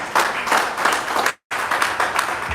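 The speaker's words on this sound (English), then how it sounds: "A round of applause for Mr. Mohozi right there." A live audience at a wellness business event giving a round of applause for the CEO, dense steady clapping broken by a brief silent cut, then continuing just as strongly.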